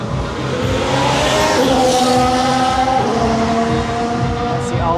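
Two Haas Formula 1 cars pass in quick succession at the 2023 Singapore Grand Prix night race, their sharp engine wails rising and shifting in pitch, loud and sustained over the trackside din.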